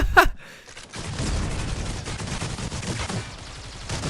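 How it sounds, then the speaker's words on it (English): Rapid gunfire in a competitive shooter tournament match, a sharp burst at the start followed by a dense, continuous rattle of distant shots and rumbling impacts, steady and moderately loud. "A lot of shots being fired towards the A side."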